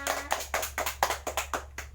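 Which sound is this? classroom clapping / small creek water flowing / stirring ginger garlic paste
classroom clapping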